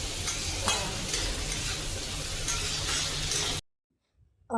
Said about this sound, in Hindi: और यहाँ पे मैं लिट्टी फ्राई कर रही थी